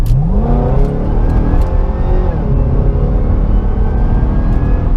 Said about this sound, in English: the car takes off like a rocket ship